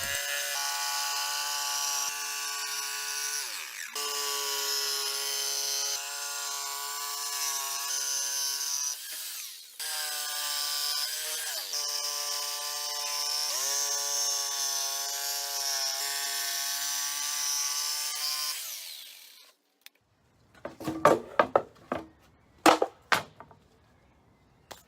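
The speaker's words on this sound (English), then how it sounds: "And then we're just going to cut them out with a jigsaw." A power drill whines as it bores holes in wood, its pitch dipping under load over several long runs, then a jigsaw rattles through the board in short, uneven bursts.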